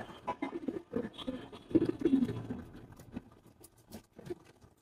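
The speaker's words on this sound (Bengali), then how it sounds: "কবুতরগুলা গোসল করছে খাওয়ার পানিতে, যেহেতু গরম পড়তেছে।" Pigeons splashing and bathing in their drinking water on a hot day, soft irregular flutters and patters of wings and water, faint and close, with a busier burst midway.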